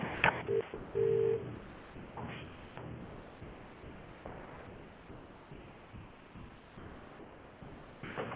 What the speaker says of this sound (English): it took me a little bit to call in on the phone